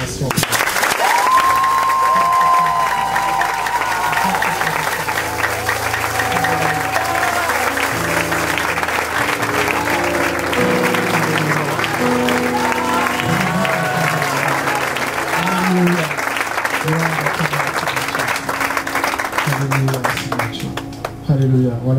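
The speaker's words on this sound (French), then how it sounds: "est-ce que tu peux donner une forte acclamation?" A large church congregation claps and cheers loudly and continuously for a long stretch, with voices calling out over the applause.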